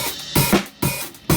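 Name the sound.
drum beat, 6/4 phrase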